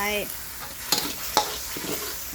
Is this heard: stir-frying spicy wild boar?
yes